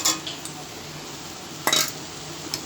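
A spoon stirs fried split-pea lentil fritters through a banana-flower mochar ghonto in a cooking pan, giving a few light metallic scrapes and clinks with a sharper knock near the end, close and otherwise quiet.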